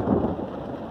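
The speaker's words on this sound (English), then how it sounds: "you can hear the storm." Thunderstorm over a garden of pepper plants: a continuous low rumble of thunder mixed with the steady hiss of rain, moderately loud and filling the whole short moment without any voices.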